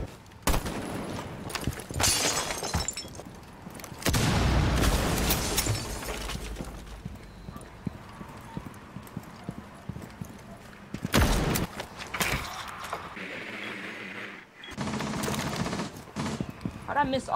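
Gunfire in a Rainbow Six Siege custom 1v1 match, with loud bursts of automatic fire and sharp single shots in separate clusters, glass-like breaking crashes, and quieter stretches between them.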